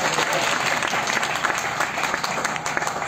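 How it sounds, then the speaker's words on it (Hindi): Audience at an outdoor Ramlila performance clapping loudly, a dense, continuous burst of many hands that fills the entire moment with slight crowd murmur beneath. "जोरदार ताली बजा के"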